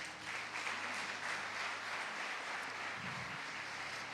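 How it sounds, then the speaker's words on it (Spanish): Church congregation applauding during a Spanish-language service, a continuous, even wash of clapping heard from some distance, with a low hum beneath it. "Den un aplauso al Señor."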